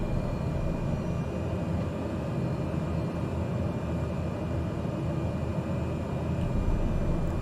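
Cessna 208 Grand Caravan in a flight simulator on final approach with full flaps in gusty wind, a steady engine and airframe drone holding level throughout with no talk.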